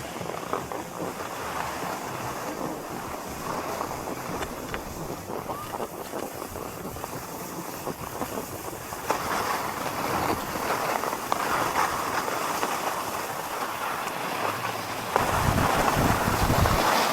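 Strong wind roaring steadily across a ski slope at Big White, a broad continuous rush buffeting the microphone, with a brief louder gust near the end.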